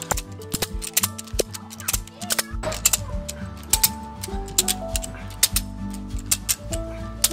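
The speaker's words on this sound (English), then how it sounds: "if the spool is too big, it'll stop ratcheting" Ratchet strap being cranked to tension a backyard ninja slackline, heard as rapid, close mechanical clicking in uneven bursts with low thumps of the webbing spooling.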